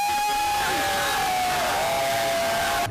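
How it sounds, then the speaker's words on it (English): Rugby crowd in Port Vila cheering, a steady loud roar of many voices with sustained whistle-like tones and shouts, continuous for nearly the whole moment before cutting off abruptly. "They cheered every time."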